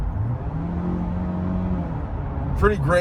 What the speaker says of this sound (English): I'm on the freeway, and like I said, the acceleration is pretty great